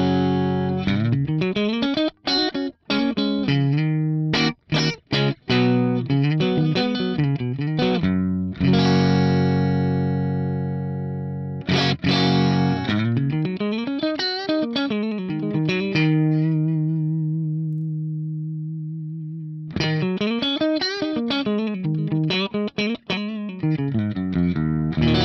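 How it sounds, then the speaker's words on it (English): Clean electric guitar tone from a Fender Stratocaster played through Dyna-Cabs, loud and close, with strummed chords, picked runs and long ringing sustained notes that decay to a single held low tone before playing resumes. "I'm really happy with that as a sweet clean tone with my Strat."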